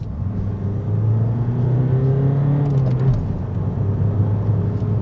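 Renault Megane 1.6 dCi GT-Line (2016) diesel engine revving steadily near the listener, a low smooth hum that rises briefly in the middle and settles, quiet and refined, with no talking.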